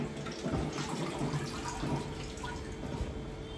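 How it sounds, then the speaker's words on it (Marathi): Spinach swished in a large basin of water and tipped into a colander, giving a continuous close splashing and trickling of running, draining water with no voices. "सो ही भरपूर पाण्यामध्ये अशी छान अशी हेसळून अशी चाळणीमध्ये काढणार."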